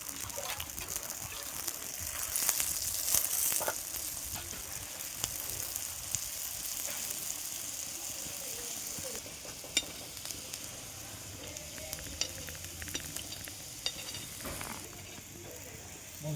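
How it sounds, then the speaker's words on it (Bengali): Aloo paratha frying in oil on a hot pan, giving a steady close sizzle with scattered scraping clicks and taps from the spatula throughout. "এটা উল্টিয়ে আবার অন্য সাইডে তেল দেবো।"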